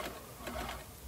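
A sewing machine stitches a flower-shaped appliqué along its edge onto damaged garment fabric, giving a steady, close whirring hum for about a second.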